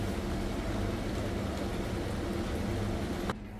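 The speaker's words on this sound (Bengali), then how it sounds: "বাহিরে আসলে খুব সুন্দর বৃষ্টি হইতেছে" Steady rain falls outdoors in a continuous broadband hiss, moderately loud and unbroken, then drops away abruptly near the end.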